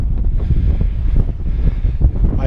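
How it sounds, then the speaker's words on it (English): Strong wind buffeting the microphone on a coastal hike near Louisbourg, a loud, gusty low roar with uneven thumps and no voices. "It has always been windy over here."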